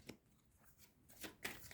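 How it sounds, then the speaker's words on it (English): A deck of tarot cards being shuffled, with several soft riffling bursts and a louder burst of card flutter toward the end, close and quiet, with no talk. "these cards are becoming like really difficult to shuffle"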